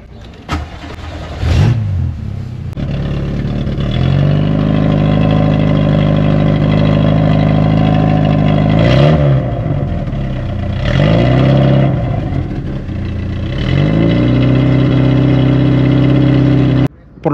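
A Volkswagen Jetta GL engine cranks and catches near the start, then settles into a close, steady idle, with a few brief revs rising and falling before it is cut off at the end.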